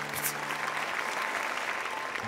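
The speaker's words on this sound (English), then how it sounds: "At the end of the play, everyone clapped." An audience claps steadily throughout at the end of a play, a dense wash of applause with a brief voice at the start.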